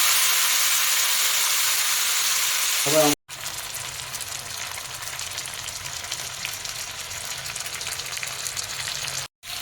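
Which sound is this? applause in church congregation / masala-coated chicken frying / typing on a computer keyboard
masala-coated chicken frying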